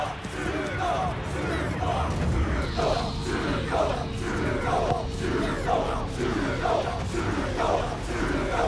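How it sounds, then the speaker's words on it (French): Loud cartoon crowd of football supporters roaring and cheering continuously, a dense wall of yelling voices with rhythmic swells, recurring chant-like bursts throughout. "Le chèque veut que la foule de supporters fasse encore plus de bruit."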